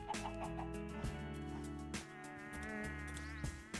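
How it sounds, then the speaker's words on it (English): A Minecraft chicken clucks in a few short, soft bursts near the start, heard over steady background game music. "Chicken."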